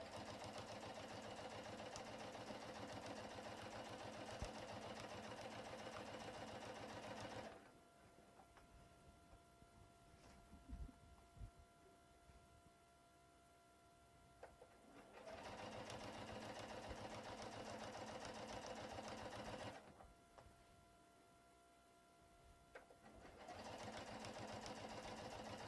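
A sewing machine stitches the binding on a mini quilt in bursts, a steady rapid whirring hum that runs for several seconds, stops, then starts again for short back-tacking runs, with quiet handling noises in the pauses.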